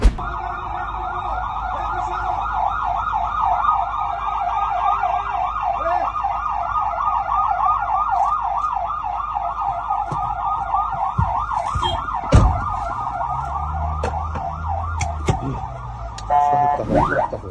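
A wailing ambulance siren, linked to ambulances carrying wounded Palestinians to hospital, sweeps up and down steadily and loud for the whole span, with traffic noise and a few thuds and knocks underneath.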